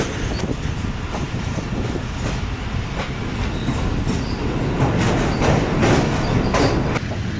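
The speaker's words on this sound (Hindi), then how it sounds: "ये पकड़ ली PLC और उसके बाद नॉचिंग अप करते हुए AG30 6013 Badami Bagh railway station पर।" AG30 locomotive number 6013 notching up at Badami Bagh railway station in Lahore, a steady loud rumble of engine and rolling stock with faint clatter, continuous throughout and no voices.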